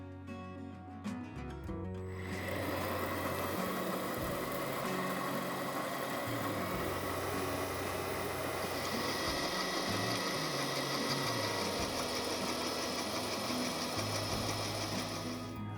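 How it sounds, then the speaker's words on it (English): A milling machine drilling holes in a piece of aluminum for a light socket mount in an industrial shop light build, starting after a few clicks and then running as a loud, steady whirring grind close by without pause. "I'm going to mount the aluminum back up in the mill, and I'm going to drill the holes in the light socket so the light socket can screw down."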